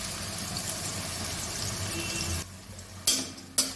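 Potato pieces frying in a pan for a Brahmi shak dish, a steady close broadband sizzle that drops away midway, followed by two brief sharp clatters, with no talk.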